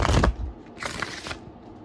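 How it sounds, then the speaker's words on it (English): Tarot cards being shuffled by hand: a dense, papery riffle at the start, then a second, softer burst of card flicking a moment later, close up and with no talking. "Let me get a little shuffle. I didn't really shuffle these."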